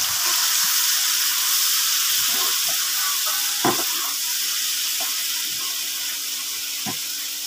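Masala paste for a quail egg bhuna, made with poppy seed paste, sizzles steadily in a hot pan as a continuous hissing fry, with a few faint clicks and scrapes of a utensil scattered through.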